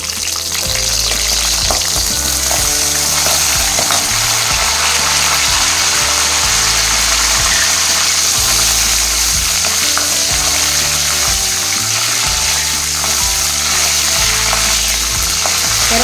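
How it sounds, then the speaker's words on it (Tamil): Curry leaves crackling in hot oil for a chicken chops gravy, a loud continuous sizzle with sputtering pops, accompanied by a steady low repeating background hum. "எண்ணெய் காஞ்சிச்சு, கருவேப்பிலை போட்டுக்கலாங்க"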